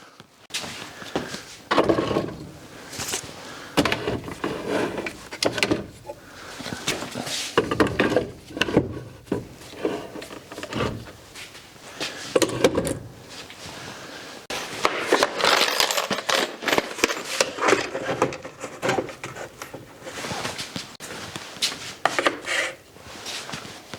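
Power tools and holders being hung on a French cleat wall in a workshop, a busy series of wooden knocks, scrapes and clatters of varying loudness, close up, with no talking.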